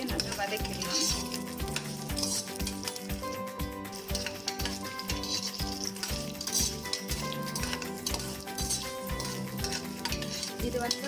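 Peeled garlic cloves sauté in oil in a pan while urad dal rice is being cooked, a steady sizzle broken by regular scraping stirs of a spoon against the pan, close and continuous.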